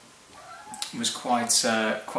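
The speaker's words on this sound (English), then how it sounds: "Sorry, that's just the cat." A cat meows a few times close by, rising and falling cries mixed in with a person talking.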